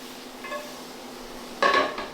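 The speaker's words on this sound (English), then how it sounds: "So sauteing the shrimp." Shrimp sautéing in a pan, heard as quiet kitchen clatter with brief bursts of pan and utensil contact, the strongest scrape near the end, over a faint steady background.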